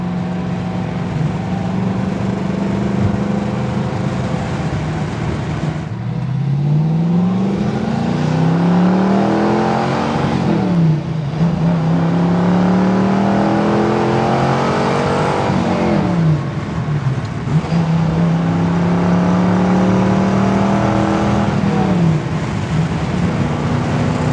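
A 1967 Ford Mustang K-code with its 289 high-performance V8 is revved hard and repeatedly, rising through the rev range in several long climbing pulls with drops between, loud and close, with no talk.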